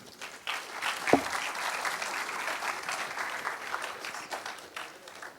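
Audience applause at a technology talk welcoming an engineer to the stage, sustained moderate clapping from a seated crowd with one sharp knock near the start.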